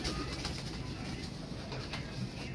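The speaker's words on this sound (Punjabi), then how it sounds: "ਫਰਾਂਸਾ ਕਬੂਤਰ ਤੋਹਫਾ ਜਿਹੜਾ ਆਇਆ" A gifted Fransa pigeon coos softly, its low murmuring calls quiet against a steady background hum.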